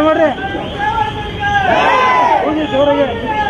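Large crowd at a Kannada Rajyotsava celebration in Shivaji Nagar cheering and chanting slogans together, a loud, rising and falling roar of many voices close by.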